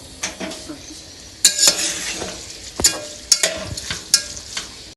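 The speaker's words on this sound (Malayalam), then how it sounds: "ഈ ഒലിവ് ഓയിൽ നമ്മൾ ഇളക്കി കൊടുക്കുക" Ingredients stirred in olive oil in a pan on the stove, with repeated scraping clinks of a utensil against the pan over a soft sizzle, close and fairly loud.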